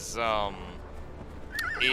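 A horse from Conan Exiles, a Silent Legion mount, lets out a loud whinny at the start with faint hoof clops, followed by game sounds and a short tonal chime near the end.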